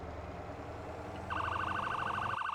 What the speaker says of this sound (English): there is an annoying ass siren on tow trucks